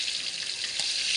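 Tilapia frying in a pan at lunchtime, a steady bright hiss of hot oil sizzling close up with faint crackles, no voices over it.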